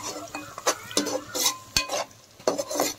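Onions fry in ghee in a pan for egg dum biryani, with a spoon scraping and stirring in several short, distinct strokes over a soft background sizzle, close and clear.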